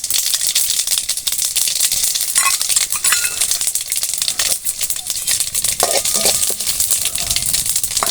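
Fenugreek, mustard and fennel seeds crackle and sizzle in sesame oil for a village-style fish curry, a bright continuous hiss broken by scattered pops and rattling stirs, close and loud with no voices.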